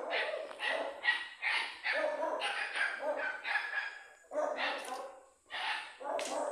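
A dog barks repeatedly on a farm lot for sale, a rapid run of loud, close barks in bursts with brief gaps, carrying on for several seconds without pause.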